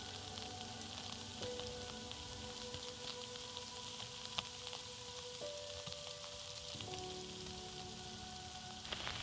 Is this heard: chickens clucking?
no